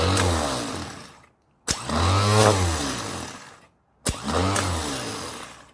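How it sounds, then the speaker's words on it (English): A GM starter motor is bench tested by pressing a starter button, giving two loud whirring spins close by, each starting with a sharp click, separated by short silent gaps. "Before installing your starter, hook it up to a jumper pack or a battery charger. Get yourself a starter button."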